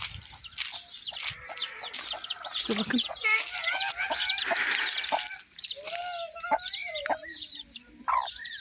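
Three hens, a rooster and chicks cluck and peep continuously nearby, a busy overlapping chatter of fowl, with a brief spoken phrase from a person.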